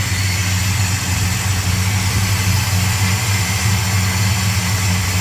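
A 1970 Dodge Coronet V8 engine idles with a steady, even exhaust rumble, deep and continuous, recorded up close with no other sounds.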